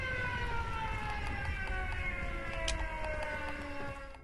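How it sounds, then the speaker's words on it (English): A wailing alert siren from the Area 99 test site in a video game after nukes are launched, with steady sustained tones and harmonics that drift slowly in pitch over continuous rumbling ambience. "you'll hear a siren like this"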